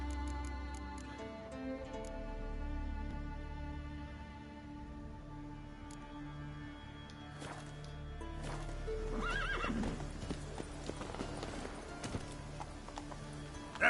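Roach the horse in The Witcher 3 Blood and Wine, with hooves clip-clopping and a clear neigh over game music and ambience, building toward louder galloping hoofbeats near the end.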